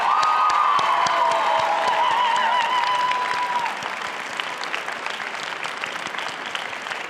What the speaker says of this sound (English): thank you everyone for that round of applause